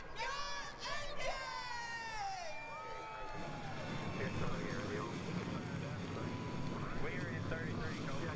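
Stock car engines firing up at Michigan International Speedway in the NASCAR Racing 2003 video game: rising whines at first, then a dense, sustained roar of many engines under an announcer's voice.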